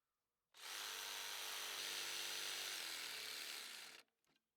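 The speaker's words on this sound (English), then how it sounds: "a jigsaw finishes it off" A jigsaw cuts through wood in one loud, close burst of about three and a half seconds, buzzing steadily before stopping abruptly, followed by a brief faint clatter.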